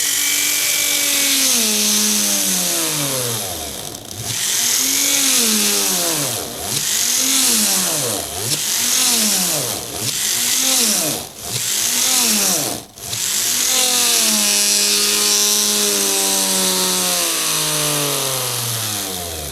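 A small high-speed motor of a Mächtz MMG-280 rotary engraver whines up and down repeatedly, dipping and recovering in pitch several times before settling into a steady spin, close and loud.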